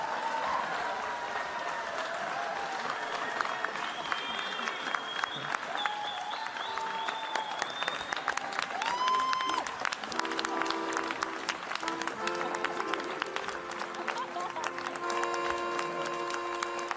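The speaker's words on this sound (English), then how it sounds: "Feel free to applaud if you so choose." A lecture hall audience at the Ig Nobel Prizes ceremony in Boston keeps up sustained applause throughout, with some cheering and musical tones woven through the steady clapping.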